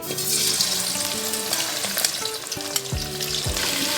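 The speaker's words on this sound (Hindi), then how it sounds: "अब हम इसके अंदर चिकन डाल देंगे।" Chicken pieces fry in hot oil in a karahi with a loud, continuous sizzle and crackle. Scattered clinks and scrapes sound close by throughout.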